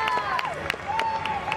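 A crowd cheers and applauds a Minnesota women's floor routine at an NCAA college gymnastics meet against Nebraska, a busy roar mixed with whistles and sharp shouts, heard at moderate level under a commentator's voice.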